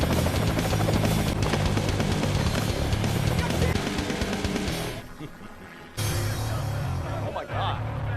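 A helicopter lifts off in an action-film scene, its rotor thudding loudly and continuously under a narrator's voice, briefly cut away, then roaring back in.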